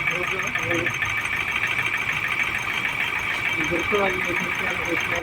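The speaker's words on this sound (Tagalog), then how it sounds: "ang under niya mga kadisil ay palyado. So, sumasayaw yung makina" A misfiring 2021 Ford Ranger pickup engine, hot, idles close by with an uneven, lumpy rhythm that stumbles now and then, and a voice speaks over it.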